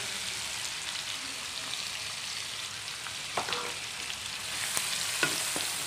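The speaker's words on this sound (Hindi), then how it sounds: "ज़ीरा जो है ना, जब वो तेल में फ्राई होता है ना" Whole cumin seeds frying in hot oil, a quiet steady sizzle with a few sharp pops and crackles scattered through, heard close and alone.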